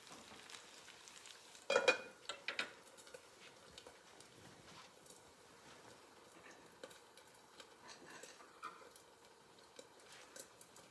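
Bacon fries on a lamp stove with a faint, steady sizzle. A few sharp clatters of utensils come near the start, followed by soft scattered ticks.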